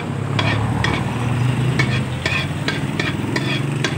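Garlic, onion and ginger sautéing in hot oil in a pan, a steady close sizzle with repeated short scraping stirs throughout.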